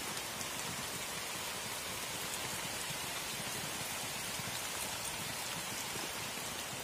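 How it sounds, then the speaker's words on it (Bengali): Dense, steady rain pours down without letup outdoors in the Sundarbans, a continuous hiss of drops hitting surfaces close by. "বাইরে কি পরিমাণে বৃষ্টি হচ্ছে"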